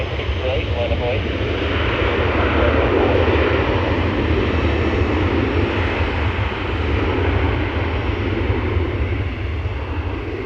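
A Cavok Air Antonov AN-12 turboprop at an airport with a loud, steady roar of its engines. The heavy rumble holds for ten seconds with a dense broadband drone, and radio chatter runs underneath.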